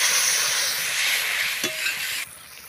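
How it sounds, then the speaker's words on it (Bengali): Turmeric, chili powder and salt sauté in oil for a fish kaliya with a loud, close, hissing sizzle and a short scrape, then the hiss drops sharply to a quieter level. "হলুদ গুঁড়ো, লঙ্কার গুঁড়ো, স্বাদ মতো লবণ, ভালো করে কষিয়ে নিচ্ছি।"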